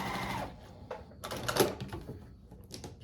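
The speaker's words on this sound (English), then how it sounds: "I'm going to sew down and end at least a ½ inch away" Sewing machine stitching a quilt block seam, a quick mechanical whir at the start followed by scattered clicks and handling noises of fabric being moved, close and moderately loud.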